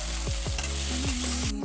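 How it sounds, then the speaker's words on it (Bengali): Onions and meat pieces frying in a kadai, a steady close sizzle with repeated stirring scrapes at a regular pace. "পেঁয়াজটাকে একটু লাল লাল করে ভাজবো এবং অবশ্যই দেবো মাংসের টুকরোগুলো।"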